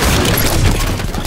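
Rapid, dense gunfire from a minigun in the shooter game Halo 5 during a 6v6 match on the Sandtrap map, a loud continuous burst of fire with booming impacts and no clear talk.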